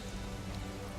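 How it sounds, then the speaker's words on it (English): Steady rain falling outside a house, a soft continuous patter across the whole short stretch with no voices. "and it is raining"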